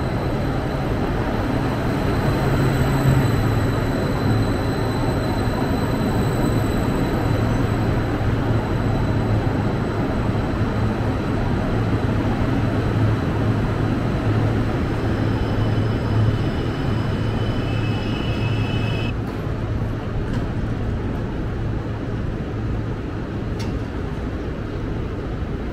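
The Soko Express, a China-built high-speed train on Serbia's Belgrade–Novi Sad line, arrives at a station with a loud, steady rumble and hiss that fills the whole stretch, along with thin high-pitched tones. No one talks.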